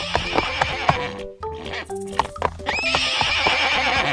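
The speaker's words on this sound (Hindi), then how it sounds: "घोड़ा राहुल को अपनी पीठ पर गिरा हुआ देखकर पागल हो गया और यहां वहां भागने लगा" A cartoon horse neighs and whinnies loudly several times, with clip-clop hoofbeats as it runs about, close and prominent with no talk.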